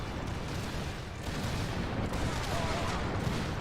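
Massed musket fire from soldiers in a Total War battle, a dense continuous rolling crackle of distant volleys blending into a steady roar with no clear individual shots.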